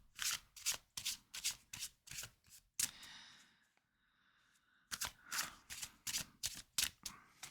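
Tarot cards shuffled by hand in quick riffling bursts, a steady run of crisp papery flutters that pauses briefly in the middle before resuming, close and fairly loud with no voice over it.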